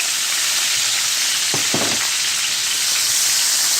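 Onions frying in olive oil with a little butter in a pan give a steady, fairly loud broadband sizzle, with a brief stirring clatter near the middle and no talking.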